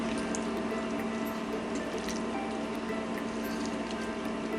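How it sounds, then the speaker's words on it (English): Vegetarian chili being stirred in a pot, a steady wet churning and scraping that runs continuously and fairly close, with no talking over it. "I'm going to stir well just to make sure that nothing sticks to the bottom of the pot."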